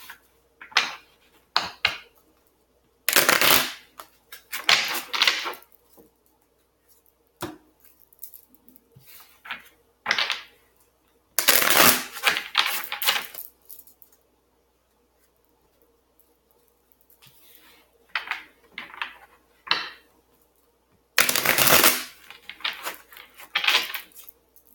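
Tarot cards shuffled in several bursts, riffling and slapping close up between stretches of near silence, with no one speaking.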